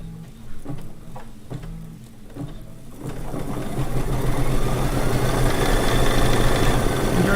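A sewing machine runs a tack-down stitch on a quilt: a few soft ticks and clicks at first, then a steady, close mechanical whirr that continues to the end.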